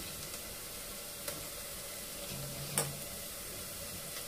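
Ginger garlic paste frying in a pan for mutton paya, a soft steady sizzle with a couple of faint clicks of a utensil, quiet and without speech.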